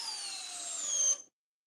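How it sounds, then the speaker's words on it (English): A cordless drill driving a screw without a pilot hole, a steady close whine with a high pitch that climbs slightly before cutting off abruptly, followed by silence. "Everybody should learn how to use a drill this way."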